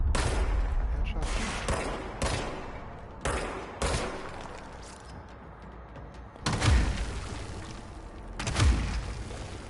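Gunfire in the video game Control comes in bursts of sharp shots with gaps between them, several louder blasts near the end, and a voice speaks faintly underneath.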